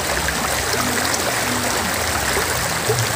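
Fast-flowing river water where someone is fishing, a dense steady rushing and gurgling wash that stays close and loud throughout with no voices.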